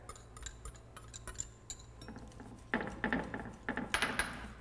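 Greek yogurt and beaten egg yolks being mixed for a moussaka custard produce light clinks and taps of a utensil against a bowl, sparse at first, then a busier, louder run of scraping and clattering near the end.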